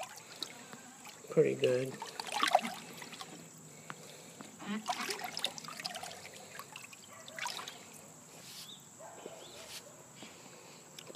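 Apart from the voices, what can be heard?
stirring nutrient mix into water for Kratky hydroponic lettuce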